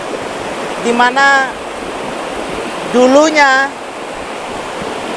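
A waterfall's steady rushing wash fills the background throughout, with a person speaking over it in two short stretches.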